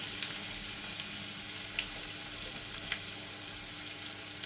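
Garlic sizzles in a hot pan for a Palak curry, a steady broadband frying hiss with occasional small pops and crackles throughout, moderately close and unaccompanied by speech.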